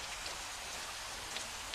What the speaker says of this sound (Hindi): ये बारिश यानी 7 साल फरावानी नेमत का आगाज हो गया है।